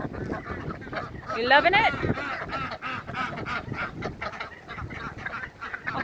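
Farm ducks and geese honking and quacking in a busy cluster nearby, overlapping calls rising and falling while someone talks to them briefly.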